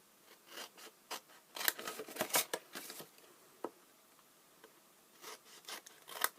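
Scissors cut and notch a cardboard box template in a quiet room, giving intermittent close snips and rustling slides of card, with bursts of cutting separated by short pauses.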